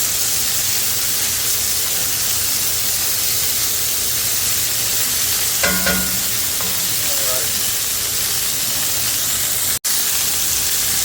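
Hamburger patties frying on a grill give a steady, fairly loud broadband sizzle throughout, with a brief scrape or turning sound around the middle and one sharp click near the end.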